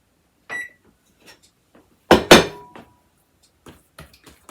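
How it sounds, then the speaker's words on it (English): A kitchen timer is set for five minutes while making sourdough bread, giving one short tonal beep, then a loud clatter of bowls or dishes and a few faint knocks. No one speaks. "I'm going to set the timer for 5 minutes"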